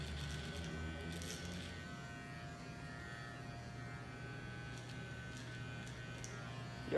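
Electric hair clipper cutting a straight line into a freestyle broken-heart hair design with the full blade, a close, steady buzzing hum that runs unbroken and fairly quiet, with no talking.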